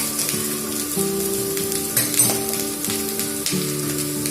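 Vegetables, including red capsicum, sizzle and crackle loudly as they are stir-fried over high heat for Kolkata street-style veg Hakka noodles, with steady frying hiss and occasional scraping tosses of the pan.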